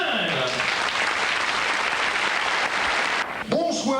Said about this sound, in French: vos applaudissements pour Monsieur Éric Jungle